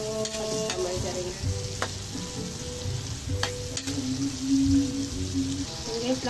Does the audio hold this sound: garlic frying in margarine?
yes